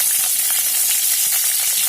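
Green chillies and onion sizzle in a hot oiled pan for an avarekalu kurma, a steady bright crackling fry with no voices.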